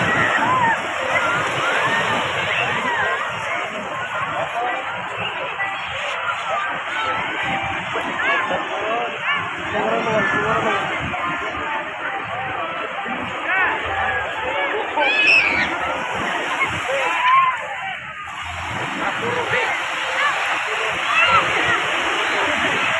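Ocean waves at Labuan Jukung beach in Krui, West Lampung, wash in as a steady, loud broadband rush of surf and splashing with no clear gaps, backed by faint crowd murmur.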